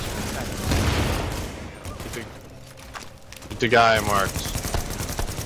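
Bursts of rapid video game gunfire crackle beneath excited talk from players, with a louder burst of shots near the end as voices continue over it.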